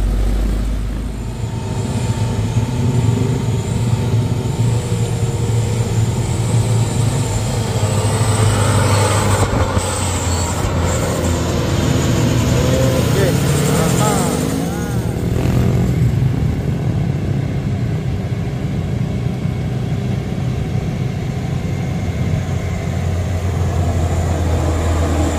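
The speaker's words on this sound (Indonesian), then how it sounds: "Rame kali di bawah itu bosku. Kendaraan rame." Busy road traffic passing below, a continuous roar of engines and tyres with a heavier vehicle swelling past midway, heard from a distance and without talk.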